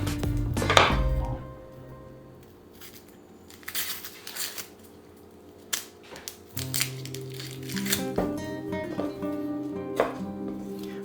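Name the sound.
cutting shallots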